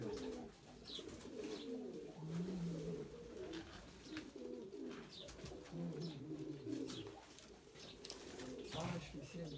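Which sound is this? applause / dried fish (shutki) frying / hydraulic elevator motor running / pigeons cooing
pigeons cooing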